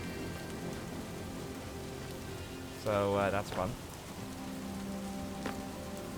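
Minecraft thunderstorm rain hisses steadily and fairly loudly throughout, with a short stretch of speech partway through laid over the constant downpour.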